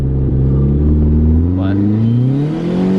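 A Chrysler PT Cruiser GT with a 4-inch exhaust tip accelerates hard in first gear, its engine note climbing loudly and steadily in pitch, close and continuous, with voices talking over it.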